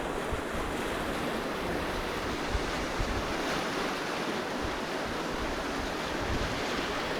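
Fast-moving Laurel Run creek water rushes through a narrow channel at a drained dam, a steady, loud broadband roar that holds unbroken throughout with no talking, while wind buffets the microphone.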